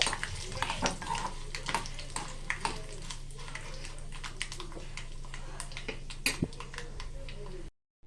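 Dried red chillies and curry leaves frying in hot oil on a stove for a brinjal and ivy gourd chutney, a dense spitting sizzle with clinks of a utensil, cutting off abruptly at the end.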